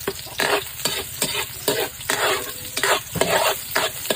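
Garlic, onion and ginger stir-fried together in a hot pan, a steady loud sizzle broken by repeated scraping strokes of a utensil roughly every half second, close up with no talking.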